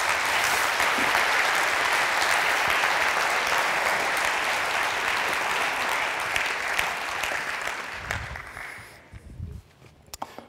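Lecture audience in a theater applauding after a talk on lithium batteries; steady dense clapping fills most of the stretch, then thins and fades out near the end.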